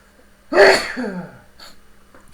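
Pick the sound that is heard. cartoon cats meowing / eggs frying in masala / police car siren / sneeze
sneeze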